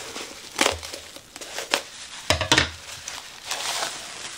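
Plastic gift packaging is cut open, giving loud crinkling and crackling bursts with brief pauses between them, close to the listener and with no talking.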